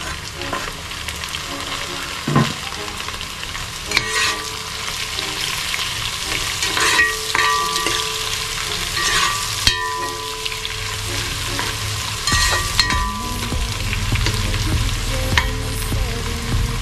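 Onions sauté in a pan with a steady, fairly loud sizzle, punctuated by sharp spoon-on-pan scrapes and knocks at irregular moments.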